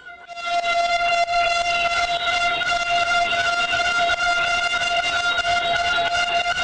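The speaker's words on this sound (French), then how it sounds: "Un concert assourdissant de klaxons, cloches et sifflets couvre la voix du chef du gouvernement" A loud, sustained blare of horns and whistles from opposition deputies in a national parliament, a steady chord that begins abruptly and keeps going over the din of the chamber. No speech is heard.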